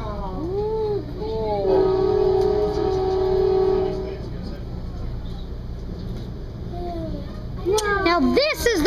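An Amtrak passenger train rumbles past Franklin Park and sounds a long horn blast, while children chatter excitedly before and after.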